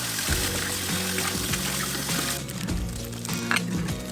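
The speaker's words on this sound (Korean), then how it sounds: "이제 끓였으면 찬물에 깨끗이 서너 번 헹궈줍니다" Cold water runs and splashes steadily as boiled greens for an acorn jelly dish are rinsed several times, a close, continuous pouring and sloshing sound with no talk.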